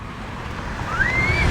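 Strong wind ahead of a storm sweeps past an outdoor vendor's stall as a steady, loud rushing roar across the microphone, with a brief rising whistle partway through and no talking.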